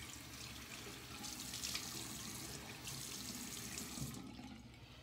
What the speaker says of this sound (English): Add a little bit more water to it.